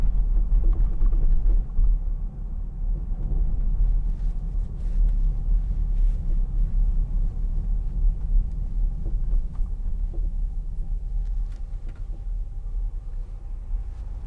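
Steady low road rumble and engine drone inside a 2005 Volvo XC90 2.4 D diesel SUV while driving, a continuous muffled cabin hum with faint wind and tyre noise and no talking.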